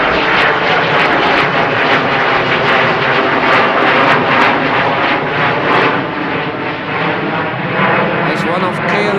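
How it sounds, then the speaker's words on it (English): A KLM Embraer jet takes off from Amsterdam Schiphol, its engine roar loud and continuous throughout, with a voice speaking over it. "KLM's Embraers just took off"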